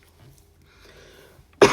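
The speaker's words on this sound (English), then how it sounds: "Apologies for the coughing." A single short, loud cough arrives abruptly at the end, after a stretch of near silence with faint background murmur.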